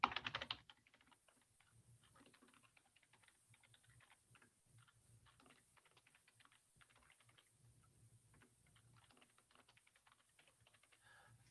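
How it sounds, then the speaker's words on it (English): Fingers tap steadily on a computer keyboard while an online account form is filled in, producing soft, quick clicks that continue throughout and stay faint and close. "forgive my typing."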